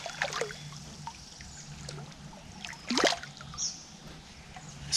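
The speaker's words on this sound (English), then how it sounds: "Splash in my face." A hooked catfish on a homemade bank pole thrashes at the surface, throwing a couple of sharp, brief splashes, one near the start and a louder one midway, over quiet trickling water.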